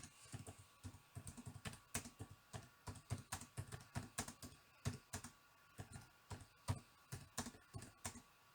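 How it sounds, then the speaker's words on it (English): Quick bursts of typing on a computer keyboard, irregular clicks and taps in close, clear runs with short pauses between. "the speech bubble is there for you to type any messages that you would like to type"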